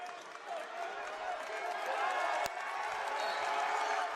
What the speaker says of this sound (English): this crowd inside the Walsh Gym gets loud once again